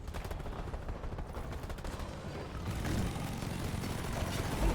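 Rapid automatic gunfire in the video game Deep Rock Galactic, dense repeated bursts of shots rattling continuously, loud and close, growing heavier toward the end.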